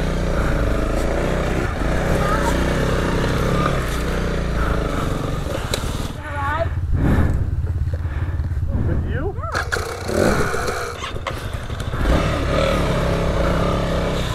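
A Honda CRF300L dual-sport motorcycle ridden off-road, its engine droning and revving steadily close by, while people talk and exclaim over it.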